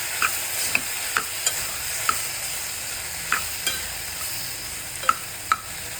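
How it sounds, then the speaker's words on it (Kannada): Radish curry frying in a pan is stirred with a utensil, soft steady sizzling broken by scattered light scrapes and clicks, close and alone with no voices. "ಇದನ್ನು ಚೆನ್ನಾಗಿ ತಿರುಗಿಸ್ಕೊಳ್ಳಿ."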